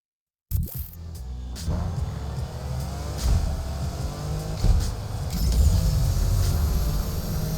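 Car engine in the racing game Need for Speed Unbound starts up sharply and then rumbles and revs steadily with a few louder surges, close and loud throughout with no talk.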